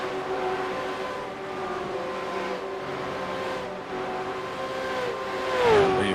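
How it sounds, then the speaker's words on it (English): V8 race car engines drone in a sim racing game at Bathurst, several cars sounding together in a steady layered whine with a rising surge of revs near the end. "there's a few cars there coming out of pit lane."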